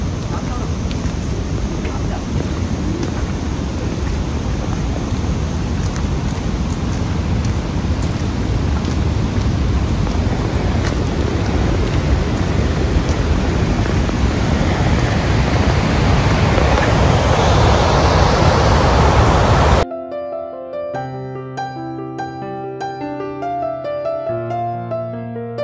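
Mallali waterfall in Coorg roars as a dense, loud wash of falling water and spray, constant and close, then cuts off abruptly into music near the end.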